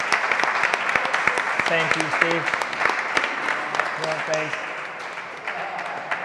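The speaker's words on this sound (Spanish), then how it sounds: "vamos a darnos un aplauso a Steve y al equipo completo" Audience applause for Steve and the team at a panel in an art gallery, sustained dense clapping throughout while someone speaks briefly over it.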